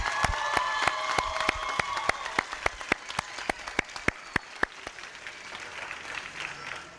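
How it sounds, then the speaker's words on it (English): Audience applause for the 2022 Jackson Public Schools summer school graduating class, a steady wash of clapping from a large crowd with distinct individual claps standing out, fading slightly toward the end with faint cheering. "Let's give them another big round of applause."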